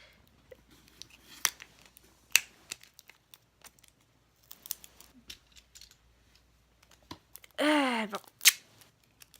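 A plastic Pokémon gachapon capsule being pried open, with scattered faint clicks and plastic taps, then a brief loud crinkling burst near the end; a voice speaks briefly.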